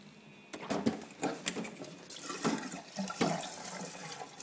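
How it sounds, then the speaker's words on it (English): Aquarium siphon starting to drain a reef tank during a water change, with gurgling, splashing water in irregular bursts close by, no speech. "I'll start my siphon."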